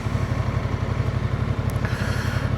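A Honda NT1100 DCT ES motorcycle engine runs steadily and loudly up close, with a low, even, pulsing throb throughout.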